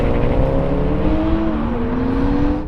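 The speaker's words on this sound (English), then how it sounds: "Now we have a rolling race from 50 miles an hour" Toyota Supras accelerating hard in a rolling drag race from 50 mph, a loud, continuous engine drone with rising tones as the revs climb, close and sustained throughout.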